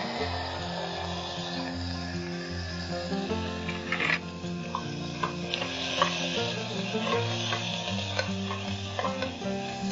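Shallots, curry leaves, cinnamon and cloves sauté in a pan for a spicy pepper chicken or mutton chops dish, with a steady sizzle, scraping stirs and occasional clinks of a utensil against the pan throughout.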